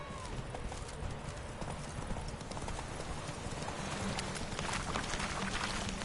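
Hoofbeats of Geralt's horse Roach pound in a steady galloping clip-clop in The Witcher, carrying over a dense rushing background, with a brief whinny-like tone partway through.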